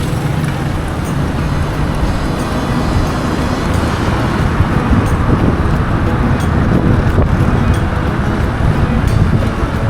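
Road traffic passing an electric bike as it rides through, a continuous loud roar of vehicles mixed with heavy wind rush across the microphone, with no clear individual events.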